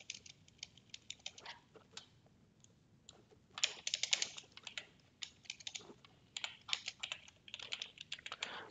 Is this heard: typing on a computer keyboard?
yes